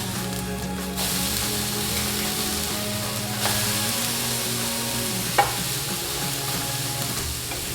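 Patties sizzle in a hot pan just after being flipped: an even, moderate frying hiss with light stirring noises and a single sharp tap near the end.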